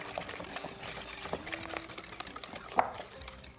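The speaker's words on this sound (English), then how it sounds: "We're going to whisk these until they're thoroughly blended," Eggs and sugar being whisked by hand in a bowl for a cherry almond cake, a steady scraping, rattling whir of the whisk with occasional sharper clinks against the bowl, close and moderately loud with no talk.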